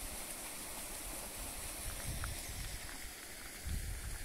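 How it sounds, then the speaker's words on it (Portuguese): A small waterfall of crystal-clear water on a rural property in Monte Santo de Minas, heard as a steady, faint, distant rushing hiss with no voices. "Olhando desse lado aqui, ó, a gente avista uma pequena cachoeira."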